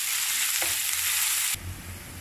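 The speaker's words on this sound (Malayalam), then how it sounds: "ചതച്ച് വെച്ചിരിക്കുന്ന വെളുത്തുള്ളിയും ചുവന്നുള്ളിയും കൂടി നമുക്ക് ഇട്ട് കൊടുക്കാം." Crushed garlic and shallots frying in sunflower oil for a tattu kada style pepper liver fry: a loud, steady close sizzle that suddenly drops to a softer hiss near the end.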